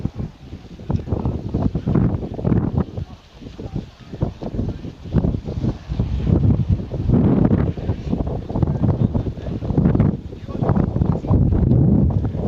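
Strong gusty wind buffets the microphone outdoors, surging and dropping in heavy rumbling blasts that fill the whole stretch.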